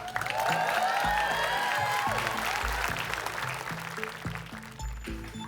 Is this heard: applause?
yes